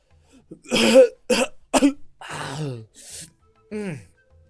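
A voice imitates coughing: several rough, throaty hacks and a raspy, wheezy breath, close and loud, with short pauses between.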